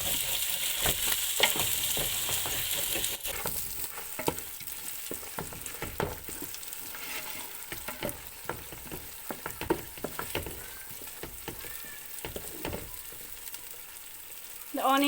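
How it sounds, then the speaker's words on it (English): Masala for chicken biryani sizzles and fries steadily in a pan with mint and coriander leaves, a continuous loud crackling hiss with scraping stir strokes throughout, close and without voices. "The masala is cooked nearly 3 minutes now."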